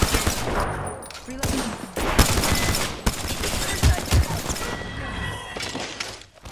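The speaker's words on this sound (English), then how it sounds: "The enemies are shooting at me" Enemy gunfire in a video game shooter match: repeated loud bursts and volleys of shots, with crashing impacts, over steady battle noise and occasional game voice lines.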